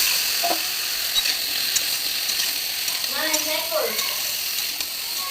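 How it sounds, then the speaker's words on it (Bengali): Pumpkin pieces with chopped onion fry in oil, giving a continuous loud sizzle and hiss while a spatula stirs and scrapes the pan; a brief voice rises faintly over the frying partway through. "মিষ্টি কুমড়ো দিয়ে একটু নাড়িয়ে নিলাম।"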